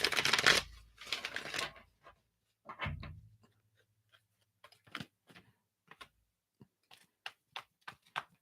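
Playing cards are shuffled in a couple of brisk riffling bursts, then scattered light taps and flicks as cards are set down, close and quiet.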